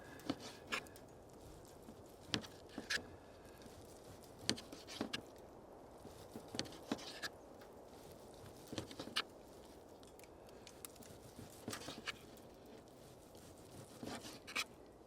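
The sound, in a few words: graupel hail pellets falling from a tree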